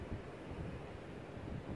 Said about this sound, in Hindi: हाँ, ये हवा चल रही है, हवा कर रही है।